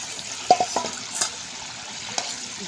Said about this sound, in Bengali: এখন আমি ভেজে রাখা মাছ এর মধ্যে দিয়ে দেবো